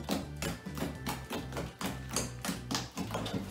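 Toothpaste slime being squeezed and pressed by hand, giving a rapid series of close, crisp clicks and soft wet pops in an irregular rhythm, about three per second.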